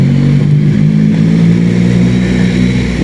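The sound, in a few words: voice imitating a two-stroke motorcycle engine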